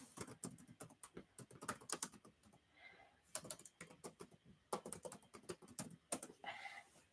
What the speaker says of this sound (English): I'll type her name so you can search her.